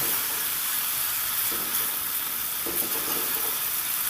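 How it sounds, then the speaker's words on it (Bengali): Okra sautéing in a pan after a splash of water, a dense, steady hissing sizzle with steam, close and constant, with a couple of soft stirring scrapes partway through. "আর একটু জল আমি এতে দিয়ে দিলাম এবার সুন্দর করে কষিয়ে নেব"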